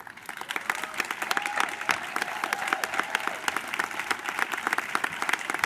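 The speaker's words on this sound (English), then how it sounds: "give a big round of applause to the graduating classes of 2020 and 2021" An audience at a 2021 business school commencement ceremony in Barcelona applauds for the graduating classes, a dense, sustained burst of many hands clapping close by at steady loudness throughout.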